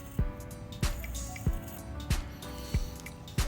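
A makeup sponge being cut makes about six sharp, squishy snips at a steady rhythm, close up and clear against quiet background noise.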